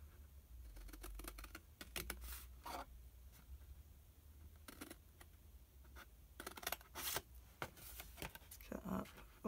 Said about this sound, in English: cut up all these long score lines